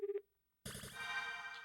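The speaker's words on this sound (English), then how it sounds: "Picked up the receiver and dialed his home phone number. The dial tone rang." A telephone in the visual novel Root Double gives a short two-pulse ring tone, then after a brief silence a sustained, buzzy electronic tone rises and holds to the end.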